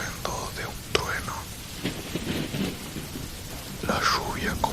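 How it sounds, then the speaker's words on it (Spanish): Rolling thunder crashes over heavy rain in a horror story scene, a dense rain hiss under low rumbles, with a whispery voice-like murmur drifting through at times. "Luego llegó el estruendo de un trueno."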